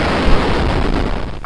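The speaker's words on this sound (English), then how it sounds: "the BSP explosion sound for those of y'all who don't know" A BSP explosion effect from the Trainz video game plays as a loud, dense, rumbling blast that fills the short moment at full strength, with no voices over it.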